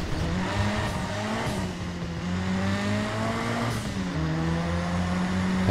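A car drives in the video game Driver San Francisco, its engine droning steadily with shifting pitch as it accelerates and cruises, loud and close, with no speech over it.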